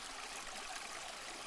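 A gentle flowing stream, a soft, continuous watery hiss and trickle, faint and steady with no voices.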